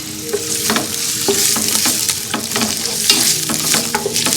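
Coriander and onions sizzle loudly in hot oil while tempering for sambar, a continuous bright frying hiss broken by repeated clinks and scrapes of stirring, close and with no talk.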